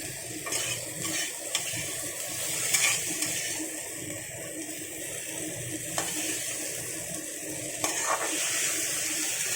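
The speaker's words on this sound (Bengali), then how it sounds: "আমি আরও একটু নাড়াচাড়া করে ভেজে নেব।" Okra (vendi) fries in a pan with a continuous watery sizzle, and occasional soft scrapes and knocks as it is stirred, with no voices.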